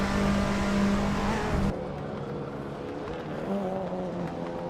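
Race cars in a racing video game, including a 2016 Opel Astra TCR touring car, rumble steadily with layered engine tones that drop abruptly after a louder opening stretch, continuing as a busy mid-level drone.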